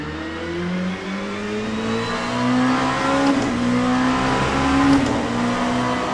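A race car engine in a sim racing video game, droning and revving continuously with rising and falling pitch as it runs laps, loud and steady with no talking.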